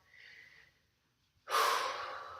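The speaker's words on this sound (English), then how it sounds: "And we're breathing through there." Breathing during a seated yoga stretch: a soft, close inhale, a pause, then a louder, sustained breathy exhale.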